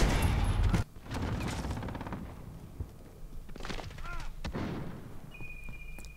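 Several sharp sniper gunshots ring out in Call of Duty Modern Warfare (2019), each a loud crack with a trailing echo, spaced a second or more apart over a low battlefield ambience.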